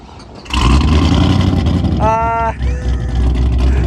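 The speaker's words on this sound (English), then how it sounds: "I drove the Corvette here. I come back out to start it, and this happens." A Chevrolet Corvette engine is being started: a quiet lead-in gives way to a sudden loud, sustained engine roar, then a brief whining tone, with the rumble continuing steadily afterward.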